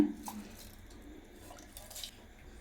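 Water is poured into a pressure cooker for making broken-rice upma, a faint, brief splash and trickle at close range in a quiet kitchen, with no one speaking.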